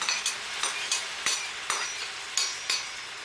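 Food sizzles in a pan with a steady hiss, broken by regular sharp scraping clicks as it is stirred.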